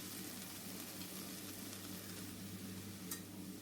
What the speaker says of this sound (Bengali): তারপরে আমি কেটে রাখা লাল শাকগুলো দিয়ে দিলাম।